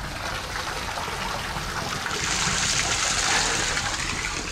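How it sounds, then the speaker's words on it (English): Swimming pool water spills out into a woodland stream with a steady rushing, trickling wash that swells louder partway through. "So this is where the water spills out of the swimming pool."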